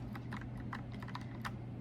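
Clicky keystrokes on a mechanical keyboard with emoji keys and an arrow pad, a close, irregular patter of quick taps over a low steady hum.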